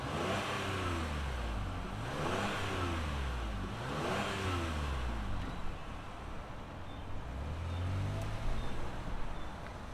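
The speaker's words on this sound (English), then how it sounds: "let's fire up this V6 and hear what kind of sound it makes" A 2024 Chevrolet Blazer Redline Edition's V6 engine fires up and revs repeatedly, each rev rising and falling in sweeping waves, loud and close, then settling into a steady idle before another short blip.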